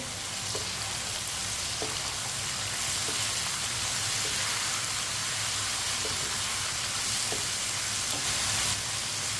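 Potatoes, okra and tomatoes fry together in a pan for aloo bhindi, giving a continuous, even sizzle with a few faint spoon taps along the way.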